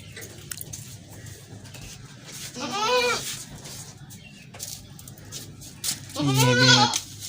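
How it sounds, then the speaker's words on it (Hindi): Two loud, drawn-out bleats from a pure desi-breed goat with four teeth at a livestock market, each nasal and wavering, separated by a few seconds of low background murmur. "4 दांत की बकरी है"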